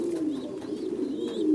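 Domestic pigeons raised on an industrial farm coo steadily and close by, with soft, overlapping low coos and faint higher chirps continuing throughout and no speech.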